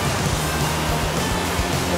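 River and waterfall in a canyon-themed area at PortAventura: a continuous rushing water roar with a low hum beneath, fairly loud and steady, with faint voices in the background.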